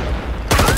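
Video game shooter gunfire, a sudden loud burst of shots cutting in after a brief stretch of background noise.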